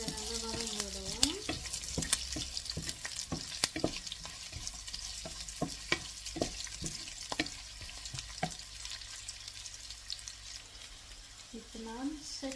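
Drumstick leaves and curry leaves being sautéed and stirred in a pan, a soft sizzle with repeated clinks and scrapes of a spoon against the pan.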